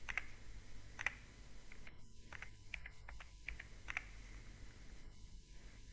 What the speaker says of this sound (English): Use the up and down arrow keys on your keyboard to rotate it.